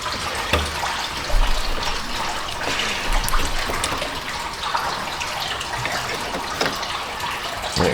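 Coolant drains out of a Buick LeSabre radiator with the lid off, giving a steady liquid trickle and splash that runs throughout, fairly close and moderately loud, with no talking.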